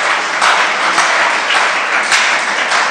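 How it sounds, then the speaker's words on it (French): A church congregation applauding in praise of Jesus at a French-language service, dense continuous clapping filling the room, loud and close throughout. "Nous acclamons ce Jésus."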